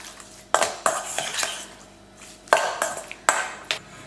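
Chicken pieces being mixed with salt in a bowl, two bursts of clinking, scraping spoon-on-bowl strokes separated by a short quiet pause, close and without speech.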